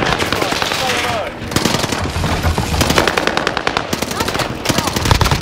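Rapid machine-gun fire rattles through a Warzone match on the Fortune's Keep map, bursts of dense automatic shots continuing almost nonstop from near and mid range, with brief voices mixed in.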